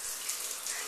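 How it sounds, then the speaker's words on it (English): Water sprays and hisses steadily from a hose-mounted shower head in a shower, a close, continuous rushing with no break and no talking. "So I'm going to go in the shower and put the water on and wait until it's the right temperature."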